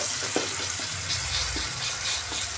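Tomatoes cook in a pan for onion egg curry, giving a steady, soft sizzle throughout with a few faint stirring knocks and no talking.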